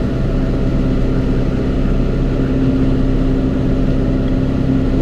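A John Deere 5R tractor drives along with a steady, loud engine drone and a constant low hum that never breaks, with no talking over it.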